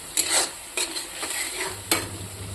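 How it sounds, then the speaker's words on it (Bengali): A spice paste of mustard, tomato, green chilli, garlic and ginger frying in a pan, with three distinct scraping spatula strokes over a soft, low sizzle. "দেখুন মশলাটা ভাজা ভাজা হয়ে গেছে।"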